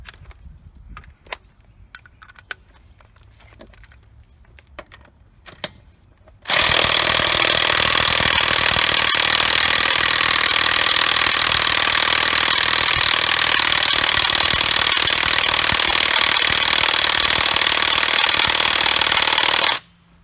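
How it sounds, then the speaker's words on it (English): Chicago Electric 1/2 inch cordless impact wrench hammering on car lug nuts with a lug key attached, one loud continuous rattling burst of about thirteen seconds following a stretch of quiet handling clicks. "we'll try and bust them with the impact"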